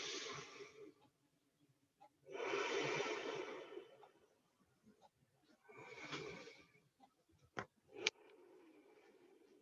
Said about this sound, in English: Breathing the inhale in deeply. Breathing the exhale out deeply.